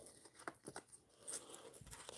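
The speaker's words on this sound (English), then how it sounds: "Shuffle these last 3 cards." Soft, quick riffles and flicks of playing cards being shuffled, a few faint papery bursts close by with no talking.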